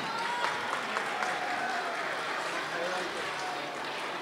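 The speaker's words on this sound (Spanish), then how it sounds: "Fuerte el aplauso para él." Steady crowd applause at a school inauguration ceremony in Iguala, Guerrero, a continuous wash of clapping heard from a distance at moderate volume without clear breaks.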